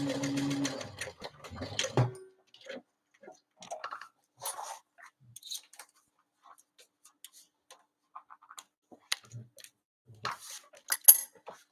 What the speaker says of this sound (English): now we're just going to continue to baste along the bottom just to secure that pocket in place.